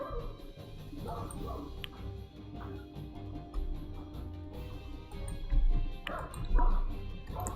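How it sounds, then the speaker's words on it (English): The neighbour's dogs bark in the distance, scattered yips and barks mixed into background game noise and clatter, faint and intermittent rather than close. "there goes the neighbour's dogs barking"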